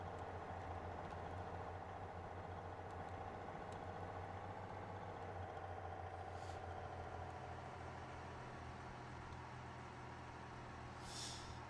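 Steady low diesel truck engine idle from the Rig'n'Roll driving game, a continuous rumble with a faint air-brake hiss at the end, no talking.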